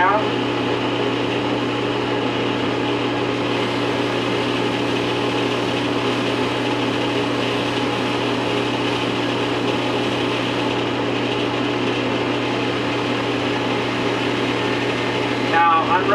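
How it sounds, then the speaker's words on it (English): A buffing wheel spins with a steady, droning mechanical hum while a Crosman 2240 or 1377 transfer port is lightly touched against it for polishing; the whir stays even throughout. "just touch it on the buffing wheel"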